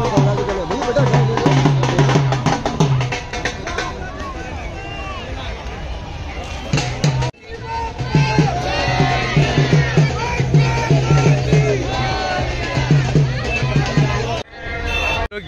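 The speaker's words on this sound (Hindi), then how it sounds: "तगड़ी भीड़ है भाई, बहुत तगड़ी भीड़ है।" A massive Ganesh immersion procession crowd in Lucknow surges with loud overlapping voices, shouts and rhythmic chanting, a dense and constant roar close by with brief dropouts.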